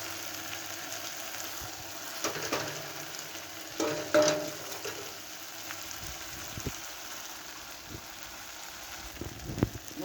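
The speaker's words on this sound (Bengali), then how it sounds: "এবার মশলাগুলো ভালো করে কষিয়ে নেব" Ground coriander, cumin, red chilli and turmeric frying in a pan for a potato and pointed gourd curry, a soft steady sizzle with occasional stirring scrapes.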